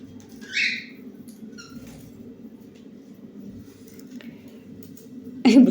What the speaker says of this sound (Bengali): এই পাখিরা শুধু দুষ্টু দুষ্টু করে।